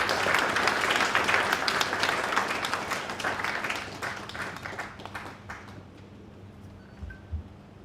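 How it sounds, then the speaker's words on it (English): A sustained burst of audience applause for an ambassador at a Sierra Leone public administration ministry event, loud at first and fading out toward the end. "He is Ambassador Suleiman Bidarami, with a resounding round of applause."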